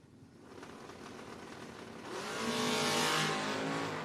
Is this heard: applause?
no